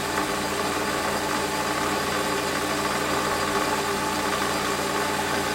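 A metal lathe runs steadily, taking a light cut on metal for a shop-made tailstock DRO, giving a continuous, even mechanical hum and whir that holds at a constant level with no talk.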